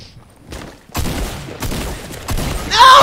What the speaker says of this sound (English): That was a missed shot.